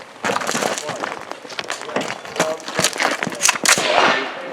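Rapid sharp pistol shots at a shooting competition stage, fired in quick irregular bursts over a busy outdoor background, fairly loud and close.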